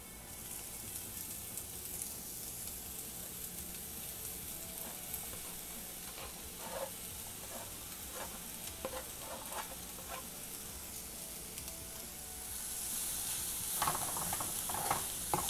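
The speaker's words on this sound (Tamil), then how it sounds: "இப்போ இதில் நம்ம உதுத்து வச்சுருக்க இந்த சுறா மீனை வந்து சேர்த்துடலாம்" Shredded shark fish stirred in a pan with turmeric and frying aromatics, a soft steady sizzle with intermittent scraping and clicking of the spatula, growing louder near the end.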